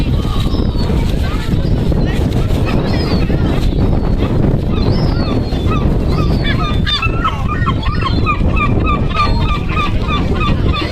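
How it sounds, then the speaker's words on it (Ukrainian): Seagulls call repeatedly over a steady roar of wind and surf on a British seashore where people are catching crabs, with their cries rising above the constant background noise. "Чайки."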